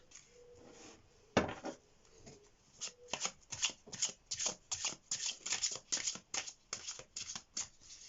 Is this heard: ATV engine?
no